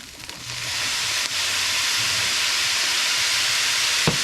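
Soy sauce poured into a hot pan of day-old Samoan fried rice bursts into a loud, steady hiss of sizzling that holds evenly for several seconds, with a faint clack near the end.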